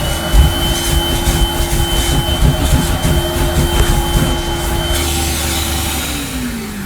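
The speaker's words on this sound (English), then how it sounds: "I best use a modern Hoover with the suction." A modern Hoover vacuum cleaner drones loudly and close at a steady pitch while suctioning a carpet, its motor whine holding level before the tone shifts and drops slightly near the end.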